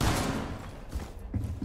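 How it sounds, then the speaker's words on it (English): A heavy, booming blast with rumbling low-end, followed by a couple of dull thumps from in-game gunfire, loud and close. "He just shot a cannon."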